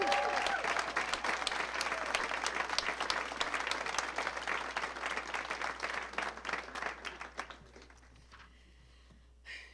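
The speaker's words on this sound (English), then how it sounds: "Can we get one more round of applause for the class of 2028?" Sustained crowd applause at a middle school promotion ceremony, with many hands clapping densely and steadily before the clapping thins and dies away into near quiet, a few cheers mixed in.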